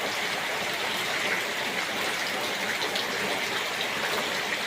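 Steady heavy rain pours during a flood among houses, a dense continuous hiss and wash of water with no break, close and fairly loud throughout.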